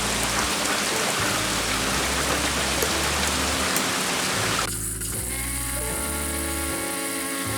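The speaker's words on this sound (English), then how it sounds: "but it's raining again." Heavy rain falls in a dense, steady hiss for several seconds, then abruptly drops to a quieter, softer patter with low background hum.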